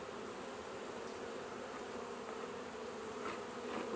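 Bees hum in a steady, dense drone around an opened double-deep hive being broken down for winter, close and continuous with no voices.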